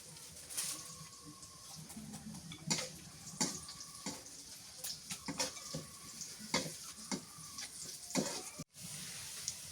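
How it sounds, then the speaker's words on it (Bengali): Onions fry until reddish in a pan for khichuri. Quiet, faint sizzling is broken by repeated scraping stirring strokes at a steady, unhurried pace. "পেঁয়াজ লাল লাল করে ভাজা হয়ে গেছে"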